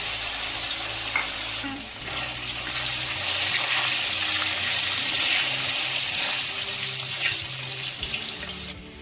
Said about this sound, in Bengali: এখন এগুলো এক এক করে সব ভেজে নেব।